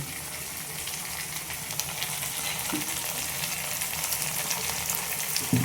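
Spices with Kashmiri chilli powder and salt sauté in hot oil in a pan for an aar fish curry, giving a dense steady sizzle with light stirring scrapes and an occasional knock of the spoon.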